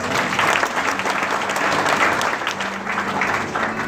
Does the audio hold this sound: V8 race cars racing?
no